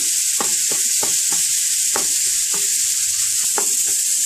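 Ground beef browns in a skillet with a steady bright sizzle, broken by a handful of sharp scraping taps as a utensil breaks the meat into pieces.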